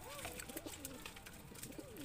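Kept flying pigeons coo softly in repeated rising and falling calls, close but low in level, over a faint background.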